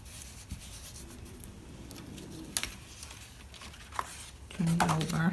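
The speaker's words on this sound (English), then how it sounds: "Turn it over, find where it is, and rub it down well." Paper glued onto a DIY journal cover is rubbed down by hand, giving soft, quiet scratchy rubbing strokes with a few light taps, and a voice briefly enters at the end.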